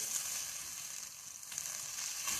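Marinated chicken cooks slowly in a pan with a little water mostly evaporated, giving a steady, close, bright sizzle and crackle that carries on without voices.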